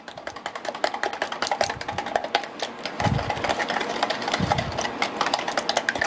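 An electric hand mixer whirs steadily through chocolate ricotta cake batter with egg yolks, the motor buzz fairly close and continuous, with lower churning swells partway through and no talk.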